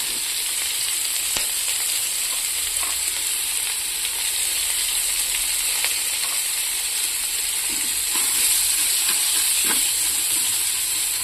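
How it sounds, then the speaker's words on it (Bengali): Onions frying in oil in a pan for a home dinner give a steady, close sizzle with a dense high hiss throughout, dotted with faint crackles and a few soft stirring knocks near the end. "তো আমি পেঁয়াজগুলো তুলে দেবো, একটু আমি আঁচটা ধীরে করে দেবো।"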